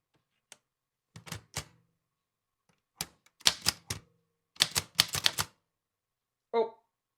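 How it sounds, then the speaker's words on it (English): Bursts of keystrokes on an Underwood manual typewriter in irregular clusters, sharp clacks with pauses between, ending in a brighter ring like a carriage bell or return. "Typewriter."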